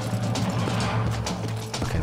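A horse gallops in the Red Dead Redemption video game, a loud, dense pounding of hooves with a low continuous rumble and rhythmic thuds over about two seconds.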